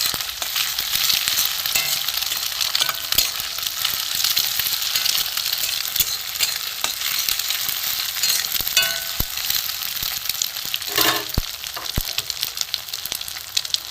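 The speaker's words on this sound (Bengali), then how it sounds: "ভাজা হচ্ছে" Egg cooking in hot oil with tomato and green chilli, giving a continuous close sizzle that stays even and loud with occasional faint scrapes of a spatula.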